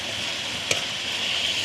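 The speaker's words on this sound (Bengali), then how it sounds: "ভালো করে এবার একটু কষিয়ে নেব মশলাটাকে।" Spices with turmeric, Kashmiri chilli powder and chopped tomatoes are sautéed in a pan for a fish curry, giving a steady, close frying hiss with one brief clatter partway through.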